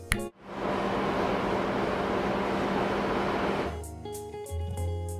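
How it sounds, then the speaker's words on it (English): A loud, dense roar of heavy machinery in a ship's engine room fills the space with constant broadband noise, then drops away to a lower mechanical hum with clanks. "because the engine room sounds like this"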